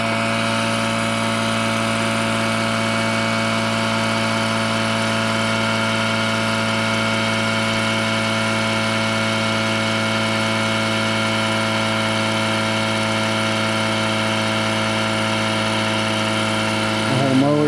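An Etenwolf Vortex S6 air compressor runs steadily while inflating a small tire, its motor giving a constant, loud mechanical drone with a steady hum that continues unbroken before shifting briefly at the end.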